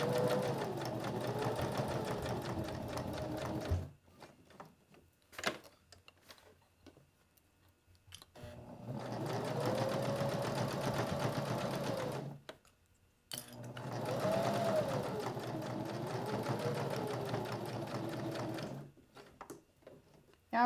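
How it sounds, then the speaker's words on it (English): A sewing machine back stitches over elastic on a fabric business card holder, three steady motor runs of several seconds each separated by pauses with small handling clicks. "I'm just going to back stitch just to secure that one more time."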